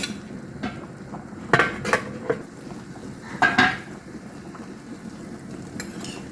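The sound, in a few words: lid placed on pan of semiya kesari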